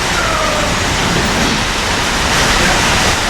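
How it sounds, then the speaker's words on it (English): A steady, dense hiss of heavy rain pouring down without letup, loud and close, with no voices. "You probably hear it rain. It's raining like dogs and stuff out there."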